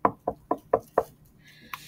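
A knock at a door in a children's story reading, five sharp, evenly spaced raps at close range, followed by a brief high chime.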